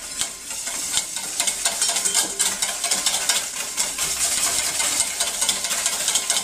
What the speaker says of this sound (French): une quantité d'huile que l'on mélangera énergiquement à chaque fois